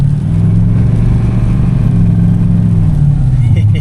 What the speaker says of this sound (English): Oh, Chevy's working up this hill, baby.